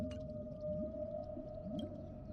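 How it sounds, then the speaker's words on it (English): Whales vocalize in a steady drawn-out tone with rising and falling moans and occasional clicks, all fairly faint beneath a low rumbling underwater wash. "Just hearing the whales"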